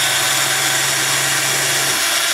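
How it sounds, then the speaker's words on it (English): A power drill bores a pilot hole for a door stop installation, a loud steady whine held at constant pitch for over two seconds without pause. "First of all, we drill our pilot hole."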